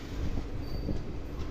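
The Naini Jan Shatabdi Express pulls out of Rampur Junction station, a steady rumble of rolling rail wheels with faint metallic squeal, close and continuous, without voices.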